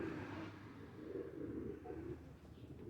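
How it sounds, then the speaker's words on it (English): Sparrows and other birds arrive outdoors at a dog training session. Faint, soft cooing and calls sit low under a steady background hiss. "you're starting to get distracted by the birds coming in, aren't you?"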